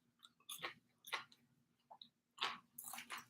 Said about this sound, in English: The fries are nice and crunchy. I can hear it.